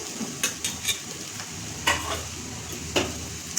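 Mashed potatoes being mixed into softened vegetables in a pan, several sharp spoon knocks and scrapes spaced apart over a faint sizzle, close and fairly quiet with no talking.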